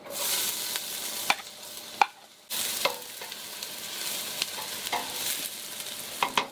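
Garlic frying in a pan for spicy Bicol Express gives a steady hiss with clicks of a spoon stirring, one brief pause, then the sizzle resumes with more scraping.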